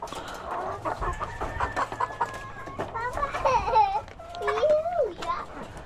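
Pet chickens clucking and crowing around feeding time, several birds calling in overlapping bursts close by, with a voice and other talk mixed in.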